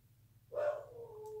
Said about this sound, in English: That's my dog, Jasper.